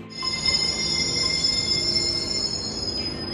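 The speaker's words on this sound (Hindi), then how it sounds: "मेट्रो आ चुकी है" A metro train arriving at a station in Noida rolls steadily with a high metallic whine and wheel screech over a continuous rumble, close by and fairly loud.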